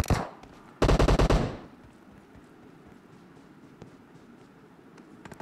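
A loud, rapid burst of automatic gunfire in a multiplayer shooter video game, lasting under a second, preceded by a quieter shot and followed by a low background hum with faint scattered clicks.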